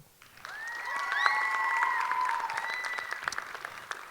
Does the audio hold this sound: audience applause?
yes